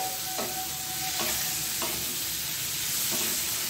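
Shrimp sautéing in a pan for a tangy star-fruit tok, with a continuous close sizzle broken by a few sharp spatula scrapes and knocks against the pan, no talking.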